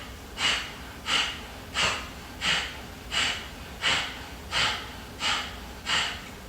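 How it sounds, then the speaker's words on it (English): Sharp nasal exhales in a yoga breathing exercise, eight forceful puffs in an even rhythm about every 0.7 seconds, close and clear with quiet pauses between. "as we exhale sharply through the nose, we're pulling, trying to hollow that belly"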